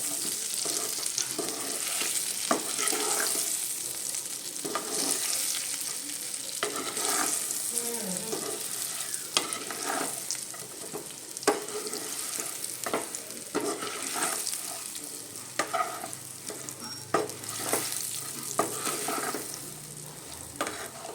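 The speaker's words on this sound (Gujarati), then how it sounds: "હવે આ પ્રોપર આપણે મિક્સ કરી દઈશું મસાલા સાથે" Stuffed vegetables, brinjal-style bharela shaak, are stirred and fried with masala in a pan, giving a steady close sizzle broken by repeated scraping stirs throughout, with no talking.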